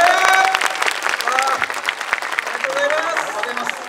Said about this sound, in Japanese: 今一度特別賞に選ばれた2チームに盛大な拍手をお願いします。